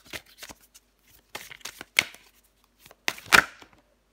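Tarot cards being drawn and shuffled by hand, a series of soft, close riffling and slapping bursts with brief pauses between them, the loudest flurry near the end.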